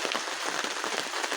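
Heavy rain pours steadily in a high-desert thunderstorm, a dense, unbroken hiss of drops beating on surfaces nearby, loud and constant without a pause.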